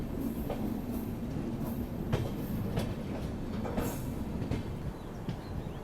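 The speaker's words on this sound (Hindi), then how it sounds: "बाकी यहाँ से अपनी ट्रेन मुड़ चुकी है प्रयागराज संगम की तरफ" The Prayagraj Sangam Express rolls along the rails with a steady rumble and occasional clacks of wheels over joints, heard from on board at a moderate, even level.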